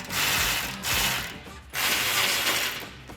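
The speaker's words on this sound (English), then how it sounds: "I'm going to use a small extension and 13mm socket with a wrench." A 13mm socket on a small extension with a ratchet wrench tightens exhaust clamp bolts on an F-150 exhaust system, giving two loud bursts of rapid close-up ratchet clicking with a brief pause between them.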